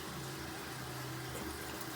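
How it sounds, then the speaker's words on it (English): Water trickling from a leaking toilet feeder pipe in a bathroom, a faint, steady watery hiss over a low hum, continuous and close, with no voices. "Can you see the water trickling out now?"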